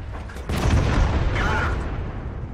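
A heavy tank cannon shot in World of Tanks, the round piercing the top of an IS-6 turret: one sharp, booming blast that rolls off in a rumbling tail.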